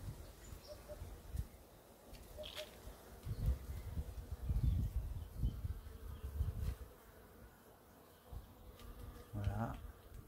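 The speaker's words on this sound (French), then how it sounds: "Voici le mandarinier qui fait le plaisir des abeilles." Bees buzzing around a flowering mandarin tree in a garden in May, a soft continuous hum with individual insects drifting close and away, under light rustling and a few faint distant birds.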